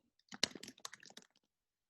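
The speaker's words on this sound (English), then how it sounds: "I'm typing it in." Brief burst of typing on a computer keyboard, a quick run of close, crisp key clicks lasting about a second, then silence.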